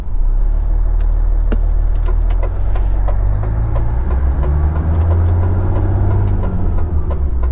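A car engine runs loud and close at low speed while the car manoeuvres into a garage, a steady low rumble with small rises in revs and faint ticks and clicks on top.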